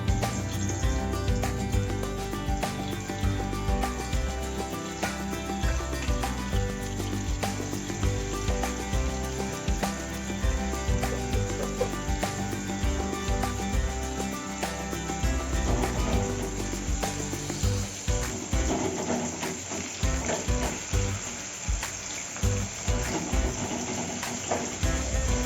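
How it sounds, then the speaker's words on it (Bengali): Paneer frying in white cooking oil in a pan, a continuous dense sizzle and crackle running steadily at even loudness for the whole stretch, with no voices. "পনিরটা একটু ভাজা হোক।"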